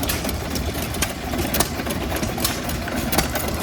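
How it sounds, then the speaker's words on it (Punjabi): A vintage tractor engine, one of a hundred-year-old tractor show's exhibits, runs steadily with a dense, clattering mechanical rattle and periodic sharper knocks, close by and loud throughout. "ਆਹ ਦੇਖੋ ਤੁਸੀਂ ਇੰਜਨ ਚੱਲਦੇ"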